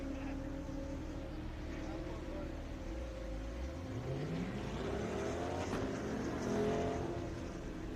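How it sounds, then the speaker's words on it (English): Mazda Miata race cars run an autocross course at Daytona, an engine note climbing steadily as a car accelerates, heard at a distance over a constant roar of background noise. "Francisco Dennis in the number 188 Miata and Brian Bassalo in the number 47 Miata"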